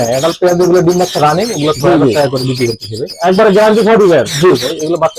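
Ringneck parakeets and lovebirds at a breeding farm chatter loudly and continuously, with harsh rising and falling squawks and calls overlapping, close by and with only brief pauses.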